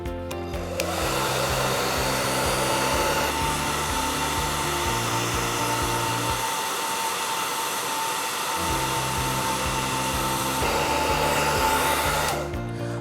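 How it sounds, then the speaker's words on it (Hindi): A hair dryer blows air to float balls in a steady, loud whirring roar for the full length, with a brief change in tone partway through. "क्या मैं इस हेयर ड्रायर पर दो बॉल्स को फ्लोट कर सकता हूं?"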